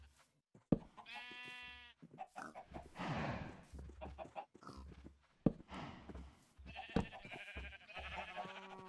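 Animal calls from a Minecraft farm, with harmonic bleating and clucking-like cries repeating several times over a soft background of game sounds.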